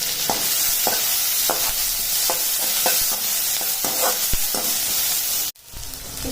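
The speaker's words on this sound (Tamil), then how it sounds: "வெங்காயம் கொஞ்சம் வதங்கட்டும்." Onion and a green chili sauté in a pan, a steady broad sizzle broken by about a dozen sharp scrapes and knocks of stirring, close and loud, until the sound cuts out abruptly near the end.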